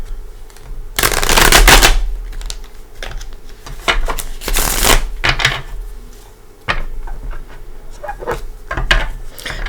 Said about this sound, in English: I try to shuffle so quietly, but it doesn't always work out that way.